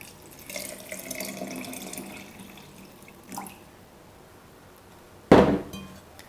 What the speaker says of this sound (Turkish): Kavanozuma aktardım. Üzerine sıcak su ekleyeceğiz.